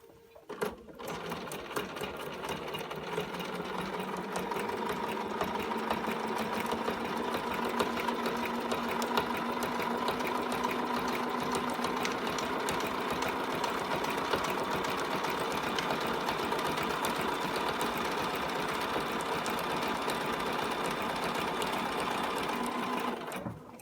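A sewing machine top stitches denim jeans with a long triple stitch, running as a steady, loud mechanical whir with rapid needle clatter for over twenty seconds, close up, stopping abruptly at the end, with no voices.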